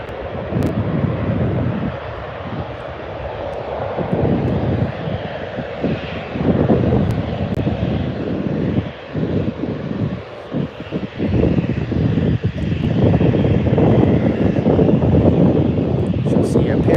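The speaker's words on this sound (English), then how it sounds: "Turn and burn there from the Ryanair 737" A Ryanair Boeing 737 roars through a quick turn-and-burn departure at Birmingham Airport, its loud jet engine noise sustained throughout, buffeted by wind on the microphone.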